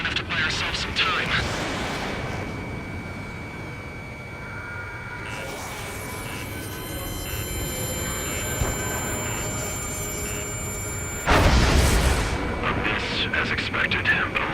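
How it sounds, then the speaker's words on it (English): Railgun energy weapon in Ace Combat 7: Skies Unknown, with two heavy booming discharges that roll out into long rumbling tails, one early and a louder one near the end, over jet and radio chatter. "Some kind of energy weapon. No, it's a railgun."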